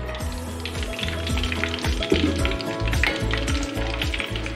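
Boiled chicken pieces frying in oil for Andhra-style chicken pakodi make a continuous bubbling sizzle with occasional stirring, accompanied by a low, wavering tonal hum underneath throughout.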